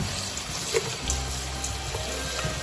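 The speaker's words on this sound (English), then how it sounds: "we're gonna rinse the squid with cold water" Cold water runs steadily from a tap over squid being rinsed, a continuous close splashing flow with no voices.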